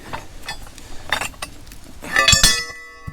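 Broken steel pieces of a Caterpillar RD-6 recoil spring clink and clatter against each other in a few bright metallic taps, with a louder ringing cluster near the end.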